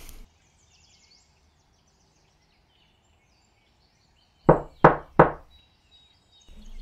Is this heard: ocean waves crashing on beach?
no